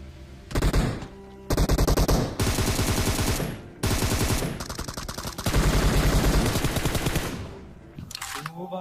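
Automatic gunfire in PUBG Mobile, loud rapid bursts of shots in several long volleys with brief pauses between them, with a voice faintly under the shooting.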